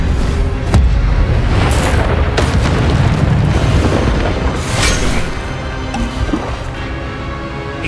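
Incendio fire spell blasts in the video game Hogwarts Legacy, loud booming bursts and whooshing flames with sharp cracks, continuous and close.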